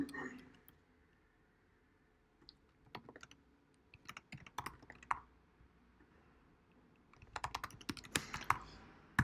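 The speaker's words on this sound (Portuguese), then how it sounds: "onde eu posso simplesmente digitar aqui" Someone types Dart code on a computer keyboard in quick bursts of close, light keystrokes separated by pauses, with a person talking quietly between and over them.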